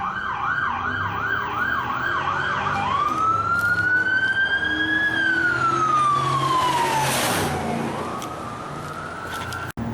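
A police car siren passes close by: a rapid wail that shifts into a long rising tone, then drops in pitch as the vehicle moves away, ending in a quieter siren sweep.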